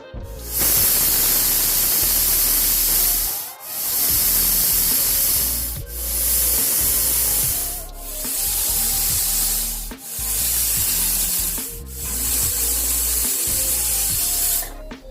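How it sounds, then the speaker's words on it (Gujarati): A pressure cooker of rajma on a medium flame vents in loud, hissing steam bursts, about six long whistles each lasting around two seconds with short silent gaps between, close and with no talk. "5 થી 6 સીટી આવવા દેશું અને એને મીડિયમ ફ્લેમ પર મેં મૂક્યું છે."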